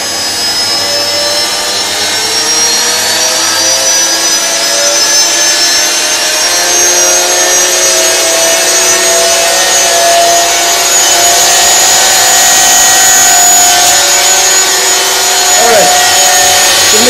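Two 3 kW 220 V 50 Hz alternators spin together, making a loud, continuous whining hum with steady tones that holds unbroken and close throughout.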